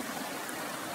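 A small stream at a campsite water source along the Appalachian Trail gives a soft, even rushing trickle, faint and continuous over the short moment, with no voices.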